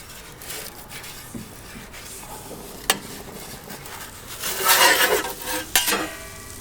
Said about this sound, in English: Scrape it off.